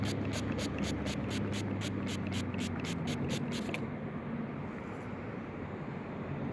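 A steady hiss of water sprayed onto a worn 1905 Barber silver coin runs throughout, with a rapid ticking pulse for the first few seconds that then stops.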